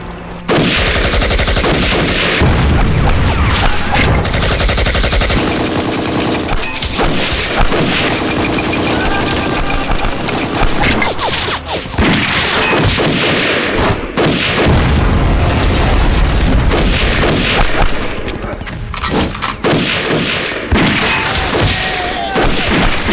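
A loud, sustained battle erupts in a village in an anti-Japanese war film as guerrillas fight Japanese troops. Machine-gun bursts rattle through heavy booming explosions, and the barrage stays dense and continuous throughout.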